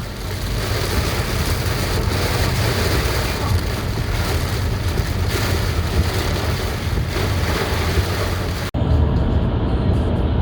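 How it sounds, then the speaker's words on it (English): Heavy rain pounds a car driving on a Florida highway near Gainesville, with visibility down to about ten feet and traffic slowed to 40 mph. A loud, steady roar of rain and road noise continues throughout, dipping briefly just before the end. "the rain came down hard, really hard"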